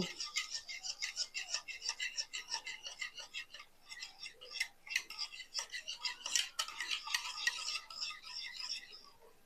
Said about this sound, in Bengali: এই দুধটা দইয়ের ভেতরে দিয়ে দিলাম দিয়ে আমি মিশিয়ে নেব